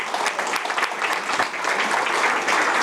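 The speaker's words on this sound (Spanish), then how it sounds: "Un aplauso para el señor." Steady audience applause at a book launch, loud and continuous clapping from a full room with no voices over it.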